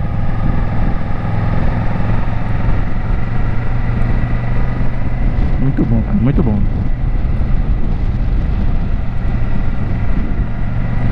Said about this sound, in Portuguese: Faz passeio de lancha